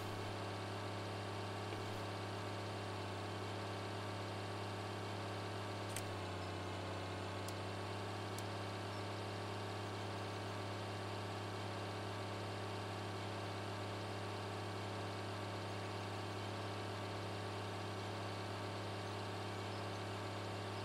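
A tractor engine in Farming Simulator 2013 hums steadily at a low, even pitch while pulling a loaded auger, a constant drone with a few faint clicks partway through and no voices.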